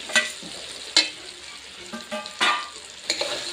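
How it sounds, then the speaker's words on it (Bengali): Eggs land in hot, well-cooked spiced masala for a dhaba-style egg bhurji curry, sizzling in loud frying bursts, with several sharp metallic clangs from stirring close by. "এবারে ডিমগুলো আমি দিয়ে দেবো।"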